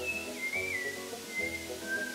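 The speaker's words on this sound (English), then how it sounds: "I like that Mario's whistling." Mario whistles the Mario theme in the video game Super Mario RPG, a clear melodic tune carried in a wavering line over steady background game music, with no talk.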